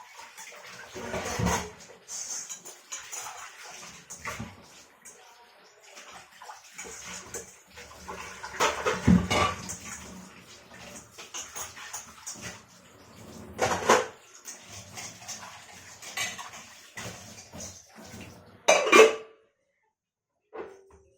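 Dishes, pots and pans being washed by hand at a home kitchen sink, with water splashing and running in bursts and metal vessels clanking and scraping now and then, the activity fairly close and uneven in rhythm, occasionally broken by pauses.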